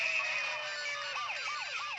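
An ambulance siren heard in a song about an anti-corruption protest starts as a steady high tone, then shifts into repeated rising and falling wails, fairly faint behind other layered sound.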